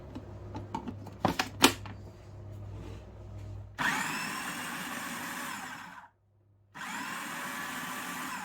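A food processor chops whole tomatoes with the skins on. A few knocks and clicks come first, then a loud steady whir that stops briefly and starts again.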